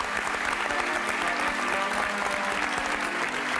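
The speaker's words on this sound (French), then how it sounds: "On peut les applaudir." Studio audience on a French TV game show applauding steadily and loudly, a dense wash of clapping that holds evenly throughout with no voice over it.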